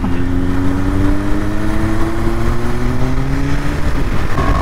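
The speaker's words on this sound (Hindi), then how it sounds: "रेव करो थोड़ा." A Kawasaki Ninja 1000SX motorcycle engine revs loudly and up close, holding a strong rumbling drone whose pitch climbs steadily over several seconds.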